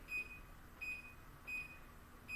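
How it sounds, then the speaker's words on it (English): A kitchen timer, set while pizza dough rests, beeps in short, evenly spaced electronic chirps, faint against a low background hum. "Put my timer on so I don't forget about it."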